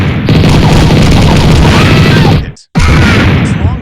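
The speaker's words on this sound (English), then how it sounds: "Boom, another loud explosion rang out." A loud explosion sound effect from an action animation, a sustained roaring blast with rumbling bursts that cuts out briefly before a second booming surge.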